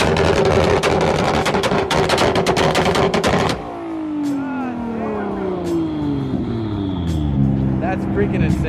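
McLaren Senna GTR supercar at a car meet, a very loud crackling engine roar with rapid popping bursts, then revs sweeping down and back up close by, with voices talking over it.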